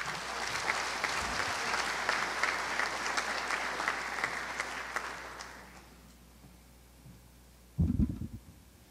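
Audience applause at a university graduation ceremony in Mexico fills the hall with steady clapping, then fades out to quiet; a brief loud burst of handling or movement noise follows near the end.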